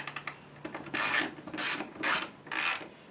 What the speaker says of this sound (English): I'm going to get my ratchet set out so I can just tighten these manually